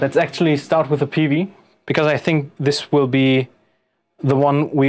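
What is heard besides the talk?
No distinct noise like a dog, phone or traffic.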